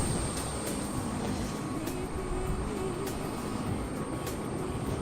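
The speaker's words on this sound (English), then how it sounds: "here is our beautiful Embraer with the APU on" Auxiliary power unit of an Embraer ERJ-195 airliner in Microsoft Flight Simulator 2020, a steady, faint whine and hum droning unchanged at the stand with no talk.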